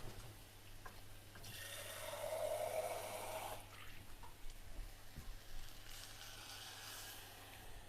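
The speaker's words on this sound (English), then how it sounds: "If your tomatoes are a little bit dry, you can add a splash of water" A splash of water added to dry tomato masala in a pan for chicken biryani gives a brief rushing, sizzling hiss in the middle, then a quieter kitchen background.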